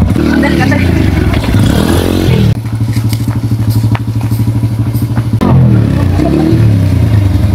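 A motorcycle engine runs loud and close, with a steady throbbing idle in the middle and rougher revving surges before and after, while people talk under the noise.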